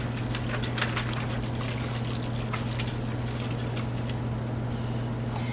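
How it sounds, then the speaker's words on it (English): A whisk stirs milk into yogurt, giving soft, quick wet clicks and swishes against the bowl over a steady low appliance hum, close and fairly quiet with no talking. "And then we want to just whisk that in."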